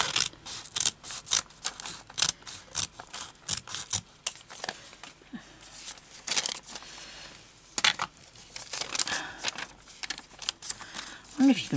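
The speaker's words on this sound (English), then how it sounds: "I think I'll cut it that way. Get a bigger pair of scissors." Scissors cutting paper while making a small book, a run of quick snipping and crinkling bursts close by, with a person talking over parts of it.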